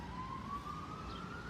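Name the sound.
emergency vehicle siren, police car passing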